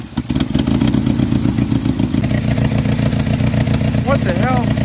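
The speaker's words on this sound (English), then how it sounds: "How do you like that cold idle?" A 1986 Jeep Comanche's 2.5L four-cylinder idles cold with a misfire and a spark plug problem, a steady, loud, close mechanical drone with clattery pulses throughout and a brief high chirp near the end.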